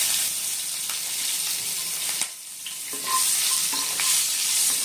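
Black cumin seeds and two slit green chillies fry in hot oil for a hilsa and eggplant curry, giving a steady broadband sizzle that dips briefly midway, then returns with soft stirring clicks.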